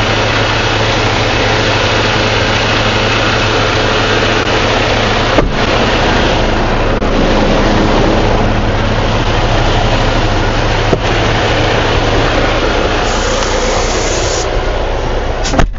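A Freightliner Cascadia 126 truck idles with a loud, steady low rumble that holds throughout, broken only by a few brief knocks or clicks.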